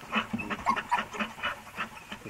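A gun dog pants close by in quick, rhythmic breaths, about eight short puffs in a steady pattern, alone without talk.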